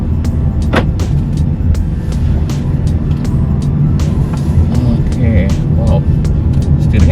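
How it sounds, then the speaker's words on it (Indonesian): Toyota Veloz Hybrid weaving through a zigzag course at about 20 km/h, a steady low road and motor hum inside the cabin with faint clicks, while people talk over it. "sekarang kita langsung cobain zigzagnya dengan kecepatan 20 km per jam"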